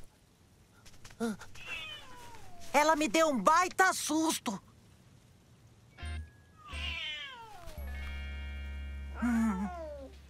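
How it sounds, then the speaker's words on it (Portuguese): A cartoon kitten meows repeatedly in high, drawn-out cries, close and clear, with a person talking between the meows. "É uma gatinha."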